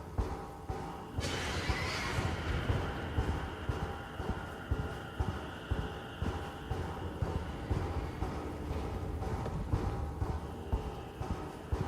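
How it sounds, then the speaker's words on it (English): A giant horse monster in the video game Mouthwashing lets out a loud, distorted neigh early on, followed by a sustained eerie drone and rhythmic thudding steps or clatter. "This is a giant horse monster?"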